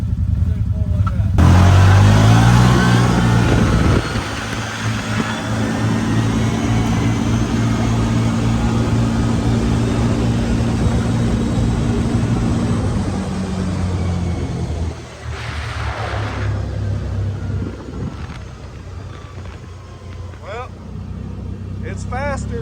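CFMOTO ZFORCE 950 side-by-sides drag racing, engines roaring loud and close as they launch and rev up hard, then a sustained high drone that dips and rises again as they pull away.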